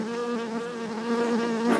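Honeybees buzzing steadily around an open beehive during beekeeping work, a close, dense, continuous drone with wavering pitch, heard alone without talk.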